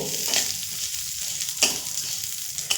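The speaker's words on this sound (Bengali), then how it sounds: "এবার আমি দিয়ে দেব মুগ ডাল মুগ ডালটা একটু" Moong dal fries in a little hot oil in a wok, a steady close sizzle punctuated by a few sharp stirring scrapes against the pan.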